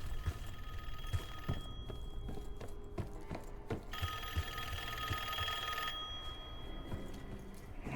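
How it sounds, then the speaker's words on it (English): Telephone ringing in Call of Duty Black Ops 6, a repeated electronic ring over a busy game soundscape with scattered clicks and thuds, moderately faint. "Answer the phone."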